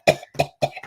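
A person coughs in a quick burst of three or four harsh, close coughs packed into under a second, each one sharp and loud, with no talking around them.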